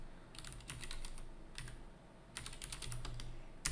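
Quick, quiet keystrokes patter on a computer keyboard in short bursts and single taps, close by with no talking.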